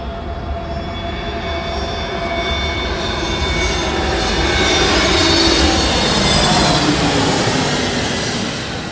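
A jet airliner, an Airbus A350 or Boeing 787, roars loudly nearby during plane spotting, a broad steady engine rush with whining tones that swells gradually toward the middle and slowly fades.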